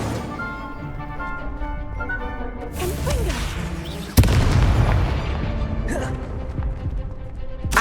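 Fiery Incendio spell blasts in Hogwarts Legacy boom out with whooshing bursts amid game music, one sharp loud impact standing out midway, followed by rushing fire and further swishes.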